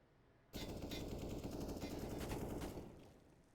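Automatic gunfire in a professional Counter-Strike match on the Vertigo map: one dense, loud rattling burst lasting about two seconds, then a quick fade to quiet.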